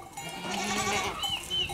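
Large Honamli goats at a farm in Geyikbayiri near Antalya give high, wavering bleats, several overlapping calls close by over a brief stretch.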